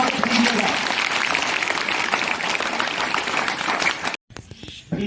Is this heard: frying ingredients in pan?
no